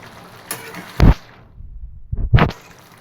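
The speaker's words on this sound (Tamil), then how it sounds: "சிக்கன் மசாலாவும் போட்டுட்டு ஒரு வாட்டி நல்லா மிக்ஸ் பண்ணிக்கலாம்" Chicken curry being stirred after chicken masala is added, with two short scraping, sizzling bursts of a spoon in the pan separated by a quiet pause.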